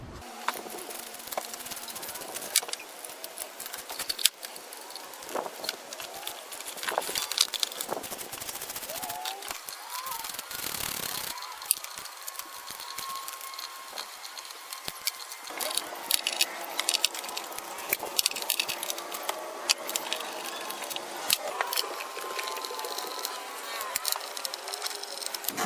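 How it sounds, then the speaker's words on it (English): 10mm bolts being removed from the timing belt cover of a Chrysler 300 3.5L, heard as a steady buzzing whir of a power tool in repeated spurts with faint clicks, close and moderate in level. "Now we're going to go ahead and take off all the bolts that hold this cover."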